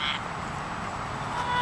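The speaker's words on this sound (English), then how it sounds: "I'm gonna show you guys these adorable little ducks" Ducks quacking beside a lake during an outdoor walk, a few moderately close honking calls over steady ambient outdoor noise.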